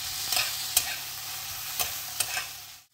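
Onions with tamarind, ginger and garlic sizzle in a pan as a utensil stirs them for onion chutney, with a steady frying hiss and several sharp scraping clicks; the sound cuts off abruptly near the end.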